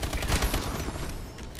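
Video game gunfire during a Hardpoint match, a short loud automatic burst that hits hardest at the start and then trails off into clattering shots.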